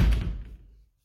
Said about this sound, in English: Shut this door as well.